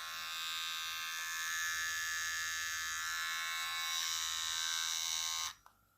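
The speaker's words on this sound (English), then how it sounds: "It's not a fast trimmer, but for a home use, it's okay." A Daling DL 1316 electric hair trimmer runs close up with a steady high-pitched motorized buzz, then switches off abruptly near the end, followed by a soft click.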